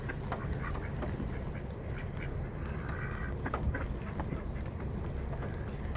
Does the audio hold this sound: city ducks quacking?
yes